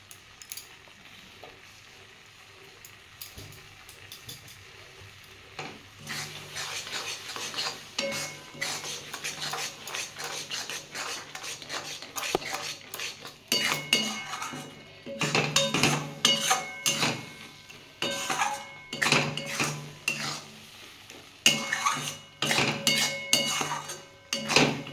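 A spoon scrapes and clinks against a pan while raw mango laddu mixture is stirred, starting quiet and growing into rapid, irregular metallic strokes with faint sizzling.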